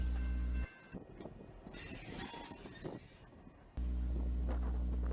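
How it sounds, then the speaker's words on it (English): TP&W 5010 freight train shoving 17 cars across Wheeler Road on the west wye of the Colby Industrial Spur in Peoria, Illinois: metallic clanks, squeals and rattling of railcars, with steady low locomotive rumble before and after. "TP&W 5010 shoves 17 cars across Wheeler Road using the west Y of the Colby Industrial Spur"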